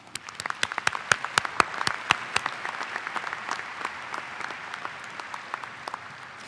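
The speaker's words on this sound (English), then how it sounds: "Give yourselves a round of applause." A college commencement crowd breaks into applause, sharp claps scattered at first, then thickening into a steady, moderately distant ovation that slowly tapers.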